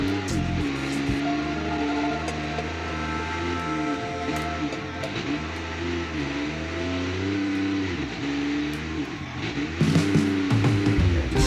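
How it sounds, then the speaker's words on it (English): A vintage car in BeamNG.drive revs its engine hard through repeated wheel spin at low speed, the tone rising and dipping in cycles, with a louder burst near the end. "Wheel spin at 8 miles an hour"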